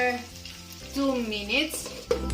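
Shrimp in butter and garlic sizzles in a covered pan, a steady close frying hiss running under a person's speech.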